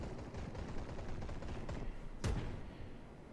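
Incoming naval gunfire in the World of Warships video game, aimed at a Yubari cruiser, sounds as a muffled series of distant rumbling shots, ending in one sharper, louder impact with a crack.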